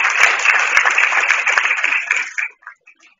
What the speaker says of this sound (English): So let's give him a round of applause as well.